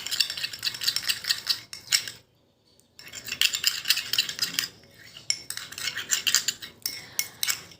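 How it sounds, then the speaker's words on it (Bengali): A spoon scrapes and stirs a homemade white face-pack cream in a bowl, in steady, close scraping strokes with one short pause partway through. "এবার আমি ভালো করে এটাকে মিশিয়ে নিচ্ছি।"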